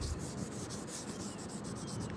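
Sandpaper rubs a car headlight lens during a headlight restoration, giving a steady, close, gritty scrubbing with a fast back-and-forth rhythm and no talking.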